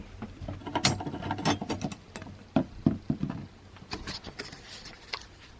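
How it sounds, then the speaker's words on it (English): Screws being undone on the PSU bracket of a Saturn server tower case, heard as close, uneven metallic clicks, ratcheting scrapes and rattles. "So I've just undone the screws on that"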